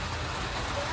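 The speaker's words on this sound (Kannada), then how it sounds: "ನೋಡಿ, ಫುಲ್ಲು ಮಳೆ." Heavy rain pours down in a steady, dense, close roar that fills the whole moment without a break.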